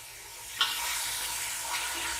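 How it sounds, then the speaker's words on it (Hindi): Chicken sizzles steadily in a pan with chilies, garlic and tomato puree, a soft continuous frying hiss with one brief stir clink near the start, fairly quiet and with no voices. "ये मिर्चों के साथ अच्छी तरह से आप इसको भून लें"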